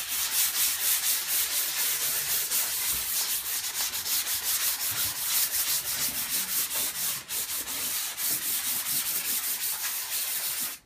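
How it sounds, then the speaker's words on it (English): Fine 320-grit sandpaper rubs briskly by hand over chalk-painted fabric, a close, continuous rhythmic scratching of quick back-and-forth strokes for about ten seconds, with no talking. "I'm gonna give it a really quick sand."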